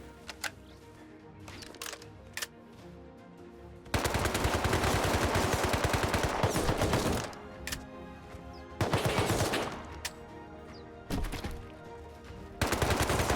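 Gunfire in a multiplayer shooter video game: scattered single shots, then several long, loud bursts of automatic fire separated by short lulls, up close and with no talk.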